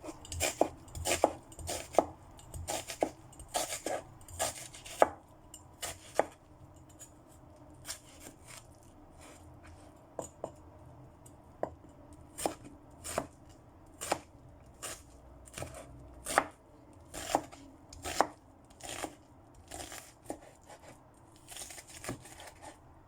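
A big white onion is chopped on a board with a knife, giving a long series of crisp, close cutting taps. They come in quick bursts with short pauses between them, and no one talks.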